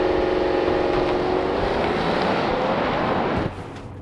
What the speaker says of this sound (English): It kind of sounds V8-ish almost. It's very smooth.